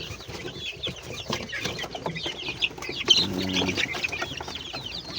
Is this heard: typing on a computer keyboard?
no